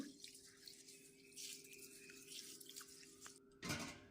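Rice being washed in water in a home kitchen before cooking mushroom biryani, with steady trickling, dripping and swishing water close by and a louder splash near the end.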